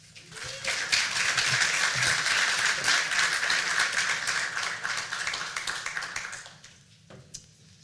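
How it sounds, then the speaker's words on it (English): A conference audience at an opening keynote gives a sustained round of applause for a speaker, dense and even for several seconds before it tapers off into quiet with a few stray claps. "Please give her a round of applause."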